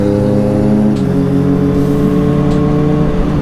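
Kawasaki Z900 and ZX6R superbikes rev loudly together, their engines close and roaring with layered, shifting pitches in a continuous, overlapping drone.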